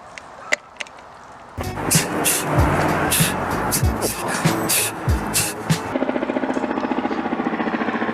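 A turbocharged VW Beetle engine with a newly fitted blow-off valve revs up and settles, with sharp rattling bursts and hissing pops during the revving, then a steady rapid idle, heard close and loud.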